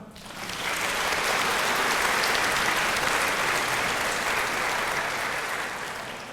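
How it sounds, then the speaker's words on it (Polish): An audience applauds outstanding students at a university dean's award ceremony, broad sustained clapping that swells in, holds steady for several seconds and eases slightly at the end. "Wielkie brawa!"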